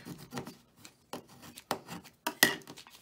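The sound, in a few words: scraping vinyl on a postcard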